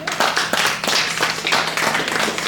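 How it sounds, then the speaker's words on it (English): An audience applauds a poet, a close, loud stretch of brisk hand clapping with individual claps standing out, steady for the whole stretch. "please, let's give a round of applause for Ms."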